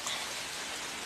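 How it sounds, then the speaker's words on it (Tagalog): Rain falls steadily at night as a dense, even hiss of drops, with no breaks or other sounds. "Umuulan pa rin."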